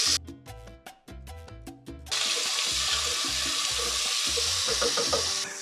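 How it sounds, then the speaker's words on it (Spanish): Chopped vegetables hit hot vegetable oil in a pan and start to sizzle, a sudden steady hiss that holds for several seconds after a few rhythmic knocking sounds. The dish is a seafood rice. "Vamos a sofreír estas verduras que ya hemos picado."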